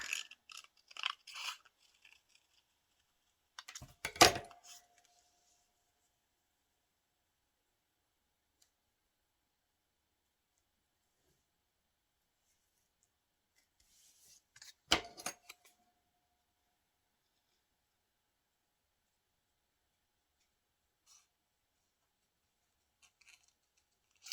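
Scissors cutting paper for a surreal bird collage, a few brief crisp snips and rustles in two short clusters separated by long stretches of near silence, close and quiet.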